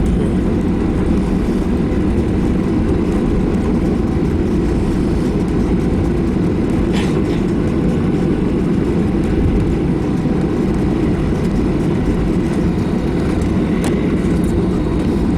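An airliner taxies onto the runway at a Crete airport. A loud, constant engine rumble and hum fill the whole stretch, heard close up from inside the cabin, with no voices.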